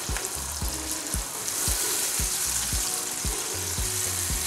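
Blended tomato and pepper sizzling steadily in a pan, with a constant frying hiss and repeated soft knocks from stirring, close up and without talk.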